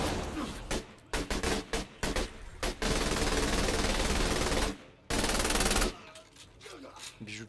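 Gunfire from Saints Row: The Third Remastered, with loud bursts of automatic fire and rapid repeated shots, brief pauses between volleys and sustained sprays of shooting.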